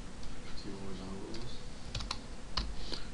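Keys clatter on a computer keyboard as Java code is typed, a quick run of close taps and a few sharper strokes over a low background hum.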